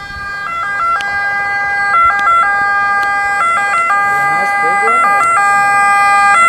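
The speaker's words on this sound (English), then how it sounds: "When the sirens finally approached, their wail carried both relief and finality." An ambulance siren wails loudly in a repeating two-tone pattern, close and steady, with faint traffic noise underneath.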